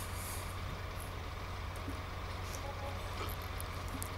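A US-modded tractor idling in Farming Simulator 19, a low steady engine drone that runs without a break at moderate distance, with faint clicks and small sounds on top.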